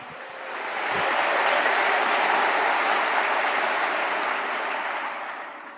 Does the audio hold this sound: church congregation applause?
yes